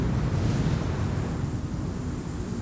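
Strong wind gusting across a landing site in the game Star Citizen, a loud, continuous low roar and rush with no pauses.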